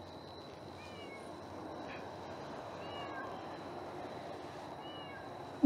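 Cat meowing faintly several times at night beside a cliff-edge overnight campsite in Benguet, distant and thin over a steady insect and ambient hiss.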